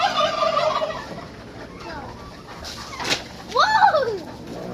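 Ready-to-lay chickens call out at afternoon feeding time in a poultry pen, giving a few loud, harmonic squawking clucks at the start and near the end, with quieter rustling between.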